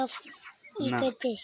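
Two short bursts of clucking from a chick during vaccination, close by and fairly quiet, separated by a brief pause.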